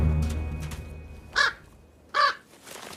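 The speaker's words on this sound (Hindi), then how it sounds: "पास में एक कौवा छिपा हुआ है जो जोर जोर से कांव कांव कर रहा है।" Two loud, harsh crow caws ring out about a second apart, with quiet ambient background in between.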